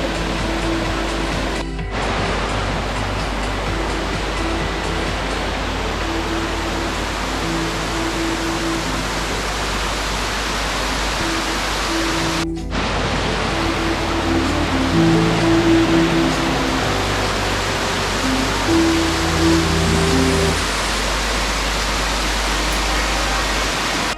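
Steady, full broadband rush of a flowing river near Ademuz, Spain, loud and continuous throughout, with no voices.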